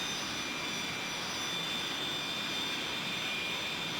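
Tupolev Tu-154 jet engines in Microsoft Flight Simulator roar as a steady, dense broadband drone with a faint high whine, unbroken throughout and with no voices.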